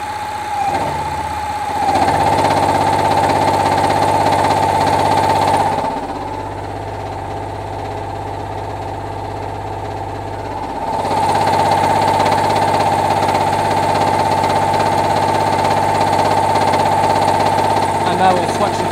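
A car engine idling while powering an inverter, a steady loud hum with a high whine that briefly drops away mid-clip and then returns, running continuously throughout.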